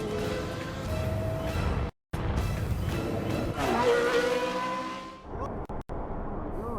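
A race car runs at Goodwood SpeedWeek, its engine roaring close and loud with rising and falling pitch through gear changes, cutting out briefly twice amid some whirring and tyre noise.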